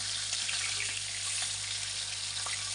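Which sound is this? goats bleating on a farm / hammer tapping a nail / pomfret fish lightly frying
pomfret fish lightly frying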